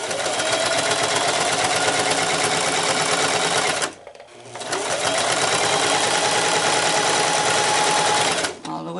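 A sewing machine stitches a fabric face mask in a steady, close whirring run that stops briefly partway through, then starts up again and runs for several seconds more.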